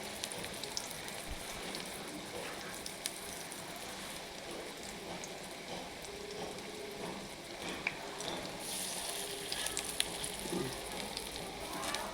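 Fenugreek leaf fritters deep-fry in oil, a faint continuous bubbling sizzle with light crackles and a few soft clicks, no voices.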